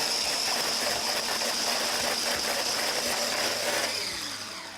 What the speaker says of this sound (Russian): И взбиваем.